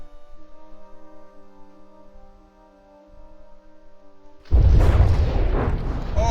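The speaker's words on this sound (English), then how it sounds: "that rear turret gets blown off" A heavy explosion strikes a warship in the From the Depths naval combat game, erupting abruptly as a loud, dense booming roar over a quiet sustained tonal background.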